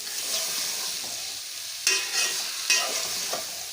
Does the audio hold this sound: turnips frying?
yes